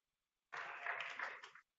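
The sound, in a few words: audience applause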